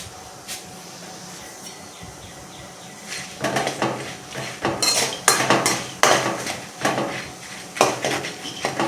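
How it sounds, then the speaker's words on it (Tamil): Peanuts sauté in a pan until reddened while making Tamil kaara pori: a quiet sizzle, then a spoon or spatula scrapes and clatters in repeated stirring strokes, close and fairly loud. "அதனுடன் சேர்த்து கடலை சேர்க்கவும். கடலை நன்று சிவந்து வரும் வரை வதக்கவும்."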